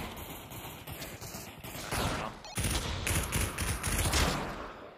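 Dense, continuous gunfire from a multiplayer video game during a live stream, with overlapping shots and thuds that grow louder and heavier in the second half.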